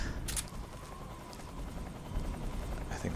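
Helicopter rotor in the stealth video game Metal Gear Solid 3: Snake Eater, a steady low chopping drone running throughout under a faint game ambience.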